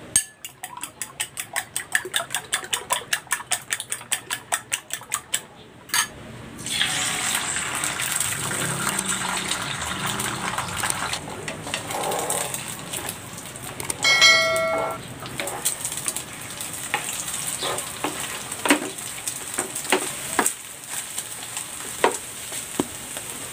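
Loud hissing sizzle of three eggs frying in hot cooking oil, preceded by a run of rapid clicks, with faint kitchen clatter over the steady crackle.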